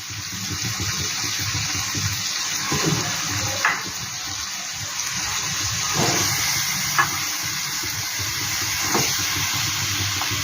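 Chicken meat added to a pan of fried spice paste with tomato, giving a steady, loud hissing sizzle throughout with a few brief clinks and knocks.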